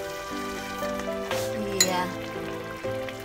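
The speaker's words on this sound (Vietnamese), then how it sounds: "Sẽ cho chút nước sôi vào ha." Boiling water is poured into a pot to blanch Korean rice cakes for tteokbokki. A hissing, sizzling pour runs throughout, with occasional clinks of cookware.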